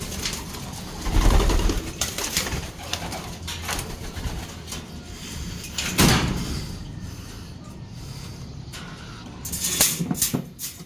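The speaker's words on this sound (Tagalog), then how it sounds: "Ayaw talaga lumipad ng isang ibon natin." Pigeons moving about inside a truck, with soft flapping and scuffling and occasional coos, broken by louder knocks and bumps against the truck body at a few points.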